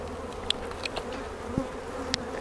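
Wild-caught bees buzz in a steady, dense hum at an open hive during an inspection, close and continuous, with a few faint clicks and taps from handling the frames.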